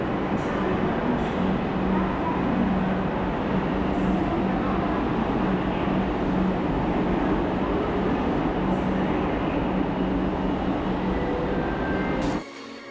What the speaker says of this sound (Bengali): দেখো মেট্রোটি ছেড়ে দিয়েছে।